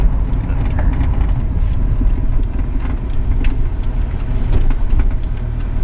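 A 1999 Chevy S10 pickup drives along, its engine giving a steady low rumble under road noise, with scattered light rattles and clicks from the cab throughout.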